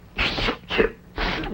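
Three sharp, breathy bursts in quick succession, like a person sneezing repeatedly at close range, each blast loud and brief.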